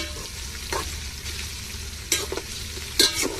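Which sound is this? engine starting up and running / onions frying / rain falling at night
onions frying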